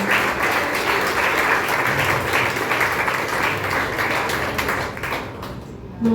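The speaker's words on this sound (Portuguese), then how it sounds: "Dê um aplauso bem forte ao Senhor." A church congregation at a Portuguese-language celebration service gives sustained, loud applause to the Lord. The mass clapping runs steadily for several seconds, then fades as a voice comes in at the end.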